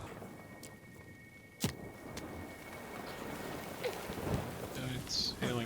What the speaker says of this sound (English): And it's hailing up here.